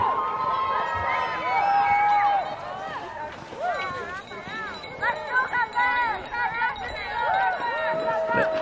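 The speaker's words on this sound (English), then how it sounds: "give them some cheering to get them going today" Spectators at a biathlon race in Hinton cheer and shout with whoops and calls, a lively mix of voices rising and falling over several seconds, fairly close and loud.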